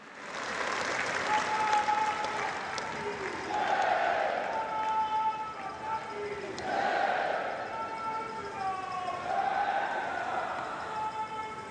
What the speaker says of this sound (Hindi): आइए जोरदार तालियों के साथ आमंत्रित करते हैं